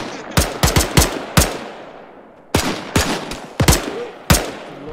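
Rifle fire in the military game Arma 3 during a rooftop fight with rioters, sharp close shots in quick clusters of two and three, with a short pause between volleys.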